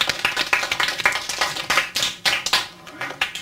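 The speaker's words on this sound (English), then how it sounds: "I think we ought to applaud these first two people." A fifth-grade classroom of children claps for two classmates, with a brief burst of uneven, close applause that has distinct individual hand claps.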